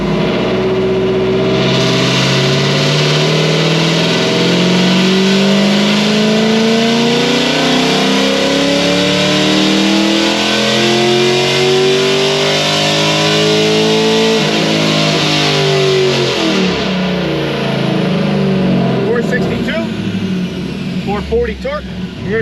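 Car engine on a dynamometer for a final full pull after a camshaft upgrade, loud and continuous, rising steadily in pitch as it climbs through the revs before dropping off near the end.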